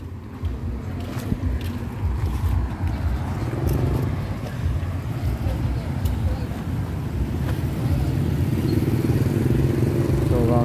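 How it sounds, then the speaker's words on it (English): Busy night market street in Vientiane, Laos, where tuk-tuk taxis wait. Continuous engine and traffic rumble with wind buffeting runs throughout, and voices are heard nearby. "So around here is all the tuk-tuk"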